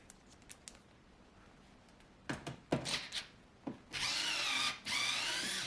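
A power drill fitted with a Phillips bit backs screws out of a Chauvet Colorstrip light bar in short, close bursts, followed by a longer steady whir of the motor near the end.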